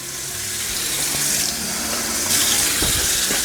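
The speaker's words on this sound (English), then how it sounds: "let's just add a little bit more water." Tap water runs steadily into a cooking pot of chicken stew, a continuous splashing rush that swells slightly partway through, close and fairly loud with no voices.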